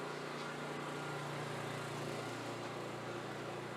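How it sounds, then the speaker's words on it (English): A Generac 5500 watt portable generator running outside hums faintly and steadily with a low rumbling tone, distant and even, with no talking. "Now you can hear the generator running outside."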